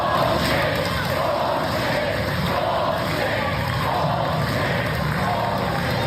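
A courtroom crowd reacts loudly to a speaker, a thick sustained roar of many voices and shouts that stays steady and near for several seconds.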